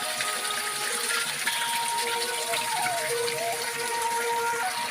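Water gushes and pours steadily without a break in a rural village, running freely with no tap, a dense, constant rushing close by, with no voices.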